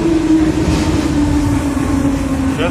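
An 81-717.5 metro train departing a station on the Kyiv metro, with a steady low rumble and a sustained electric whine, close and fairly loud, with no clear talking.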